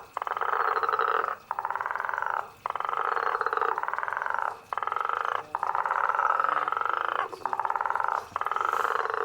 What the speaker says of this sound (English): Let's quickly hear the guttural toad so we can identify it for ourselves.